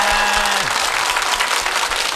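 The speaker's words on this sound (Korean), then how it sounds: "박수!" A TV game show studio audience claps steadily and loudly throughout, a brief tonal sting from the show's music sounding at the start before the clapping carries on alone.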